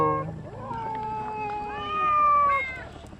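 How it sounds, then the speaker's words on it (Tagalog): A kitten meows repeatedly in rising and falling cries, close and fairly loud, with faint background noise and possible soft voices. "may bago kayong pusang kuting oh"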